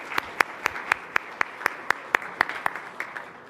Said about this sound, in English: let's give all of our forum sponsors another round of applause.